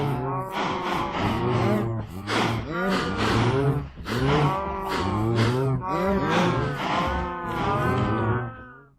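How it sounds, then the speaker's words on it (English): Cows in Minecraft moo loudly and repeatedly, with overlapping drawn-out lowing calls from a spawned herd close by, filling the whole stretch with no talk. "Let's spawn a load of cows. I want plenty of cows."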